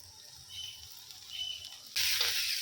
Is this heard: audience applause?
no